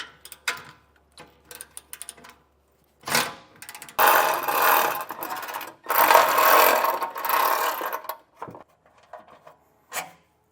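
Bolts being loosened and removed by hand tool from a heat shield under a 2020 Ford F-250, heard as close, intermittent bursts of ratcheting, scraping metal rasp with short quiet gaps between.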